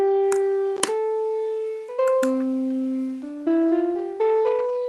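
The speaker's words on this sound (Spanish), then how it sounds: "ese es el sonido de la onda sinusoidal" A sequenced sine wave plays a stepped scale, clean pure tones moving up and down in pitch one note after another, broken by a few sharp clicks at note changes.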